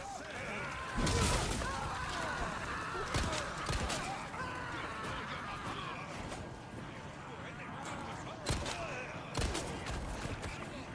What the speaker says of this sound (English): So let's see these guns in action, starting with the SG-09.